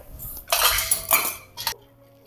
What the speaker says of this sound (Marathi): आता ही मिक्सरातनं काढून घेणार आहे